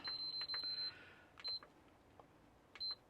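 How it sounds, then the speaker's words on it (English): A lightning-damaged PlayStation 5 gives three short electronic beeps when plugged in, each a clear high tone with gaps between them, close and alone in a quiet room. "All right, so we're getting 3 beeps"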